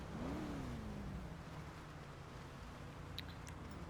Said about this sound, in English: we're gonna restart our car